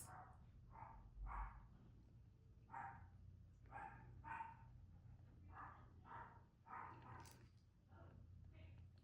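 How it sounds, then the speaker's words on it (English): Several dogs bark in short bursts indoors, a dozen or so barks spread across the clip at moderate distance, with a low steady hum underneath. "Dogs are going crazy."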